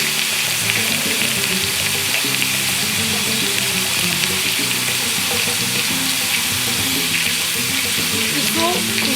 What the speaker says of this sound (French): Et là, je vais mettre de l'eau.